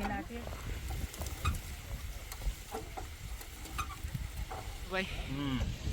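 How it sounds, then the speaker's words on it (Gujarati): Raw onions and peas frying in oil in a village kitchen, a steady crackling sizzle with stirring scrapes throughout, a few clinks and brief voices in the background. "આપણી ડુંગળી ને વટાણા જે કાચા તેલની અંદર ચોડવામાં આવે છે"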